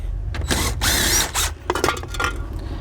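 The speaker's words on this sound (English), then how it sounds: "So I'm gonna go ahead and remove this bolt here in the back." A power tool whirs and ratchets while a 14mm seat bolt comes out of a 1999 Subaru Impreza, a couple of short loud mechanical bursts followed by clicking, close up and with no voice.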